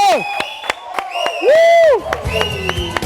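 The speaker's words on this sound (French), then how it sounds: "Barbara Kanam, encore plus d'ovations, s'il vous plaît" Whooping cheers and scattered claps from an audience ovation for Barbara Kanam, with a long sustained shout in the middle and a few loud individual claps around it.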